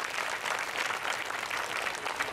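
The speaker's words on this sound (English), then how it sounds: "Give a big clap to Shivaramappa ji." Audience applause at a meditation gathering in Bengaluru, a steady broadband wash of many hands clapping at even loudness throughout, with no voices over it.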